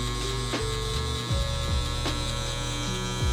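Electric hair trimmer buzzing steadily and loud, close up, with a closed-over clipper blade working through a fringe guideline during a high fade and buzz cut, its pitch dipping briefly as the blade meets hair.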